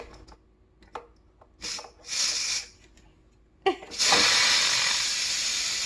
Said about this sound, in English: And he is releasing the steam.